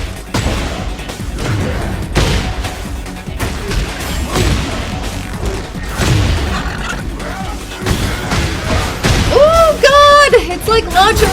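A Tekken 8 wall explosion during a fight: heavy booming crashes and sharp impacts hit in quick succession, with an excited voice talking over the action and swooping game effects near the end.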